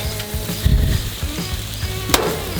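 Bacon burger patties sizzle and fry in a pan, a close, steady crackling hiss with a few brief clatters and bursts, with no voices.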